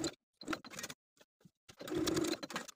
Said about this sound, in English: Now go to your sewing machine and edge stitch your flap close to the inner fold for all four of those